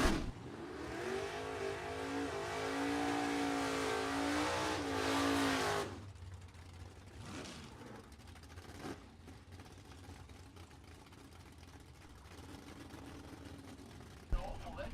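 Orange 1970 Buick GS X drag race car at a bracket drag racing event, a loud revving V8 rising in pitch for several seconds before cutting off abruptly, then fading track noise with announcer talk.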